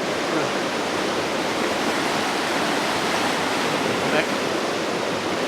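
River water flowing past a clay bank in Alaska, a steady, dense rushing wash that stays close and even throughout with no break.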